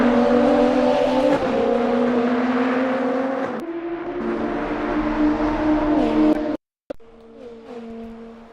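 GT2 race cars battling at Watkins Glen, engines roaring loud and close with harmonic whine as cars pass and shift, a brief cut near the end before the engine drone resumes.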